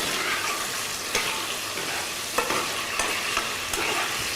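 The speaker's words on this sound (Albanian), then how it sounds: "Sa të na skuqen, do me thënë patate, të zbuten" Potatoes fry in a pan with a dense, continuous sizzle and hiss, close and steady, punctuated by a few soft scraping stirs.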